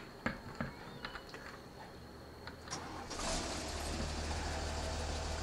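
A Fendt 822 tractor in a video game mod, rated at 155 horsepower: a few clicks and clunks, then the engine cranks and starts, settling into a steady, close idling rumble.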